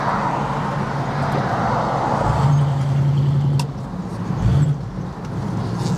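A 1970 Pontiac Firebird Formula engine rumbles steadily, then swells in a sustained rev for about a second before dropping back, with a second short blip of throttle moments later, all heard close up without talk.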